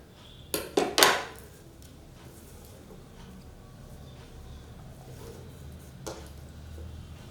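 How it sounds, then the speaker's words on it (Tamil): Scissors trimming off excess blouse fabric, with a few sharp snips close by near the start, followed by quieter handling of the cloth and a faint click later on. "இப்போ இதிலேயே எக்ஸஸாக இருக்கிறத கட் பண்ணி விட்டுருவோம்"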